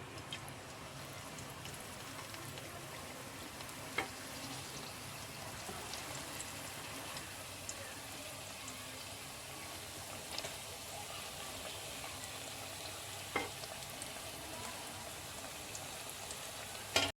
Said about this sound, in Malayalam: നമ്മുടെ എണ്ണ നന്നായി ചൂടായിട്ടുണ്ട് നമുക്ക് സമൂസ ഓരോന്ന് ഇട്ട് കൊടുക്കാം